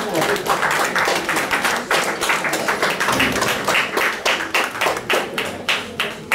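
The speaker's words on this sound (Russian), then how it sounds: "аплодисменты, иди сюда." An audience at a club celebration gives a sustained round of applause, many hands clapping briskly and unevenly at close range, with talk mixed in.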